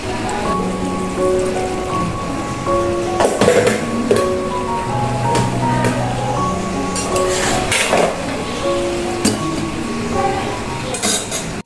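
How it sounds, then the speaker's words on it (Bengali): Rain falling outside a flat's kitchen, a steady close patter of drops on surfaces with occasional clinks and tonal sounds over it, no talking. "আবার বৃষ্টি পড়া শুরু হয়ে গেছে।"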